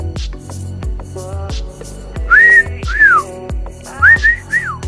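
Short whistled notes, a few rising and falling pitch glides in quick succession, close and clear over faint clicks and a low hum.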